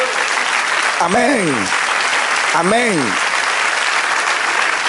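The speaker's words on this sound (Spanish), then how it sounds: "Denle un aplauso al Señor." Church congregation applauding at a Spanish-language service, dense steady clapping throughout while a voice twice calls out over it in a sung, drawn-out tone.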